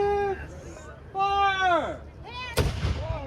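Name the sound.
cannon fire at a historical reenactment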